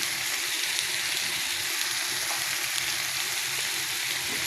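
Chili paste and turmeric powder sizzle and fry in a pan while being stirred, a steady close hiss of hot oil running without pause and with no voices.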